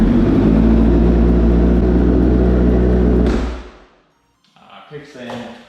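A 2009 Honda CBR 1000RR Repsol sportbike engine, rebuilt after a wreck, runs loud and steady at close range for about three seconds, then cuts off abruptly. Quieter rustling and handling noises follow.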